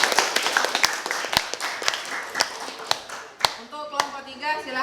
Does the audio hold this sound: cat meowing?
no